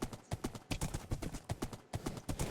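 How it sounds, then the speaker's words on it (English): Horse hooves in Minecraft clip-clop in a brisk, even trotting rhythm, near and distinct, with no voices over them. "I'm going to be taking my horse up there"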